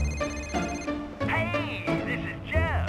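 A phone rings in Liberty City in Grand Theft Auto, its electronic tone repeating in short bursts with warbling, sweeping trills over steady low game background sound.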